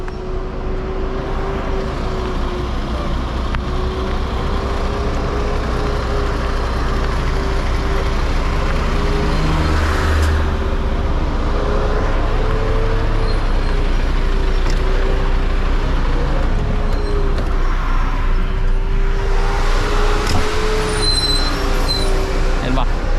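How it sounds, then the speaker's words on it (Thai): A loaded heavy truck coming down a hill, a steady loud low engine drone with a constant pitch, rumbling close throughout with a brief hiss near the end. "รถลงเขามาถ้ารถนักก็ลงจะประมาณนี้เนาะ"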